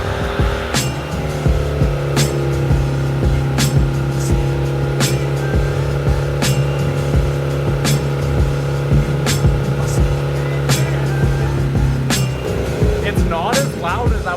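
A turbocharged Honda Civic with a newly fitted exhaust starts and settles into a steady, fairly quiet idle, with a constant low drone and regular ticking for about twelve seconds before it stops and a voice comes in.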